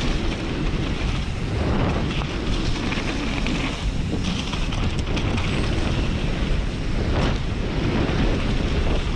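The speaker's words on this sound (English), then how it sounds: "So windy." Strong wind buffets the microphone at an outdoor mountain bike park, a loud, unbroken roar with gusting swells and no voices.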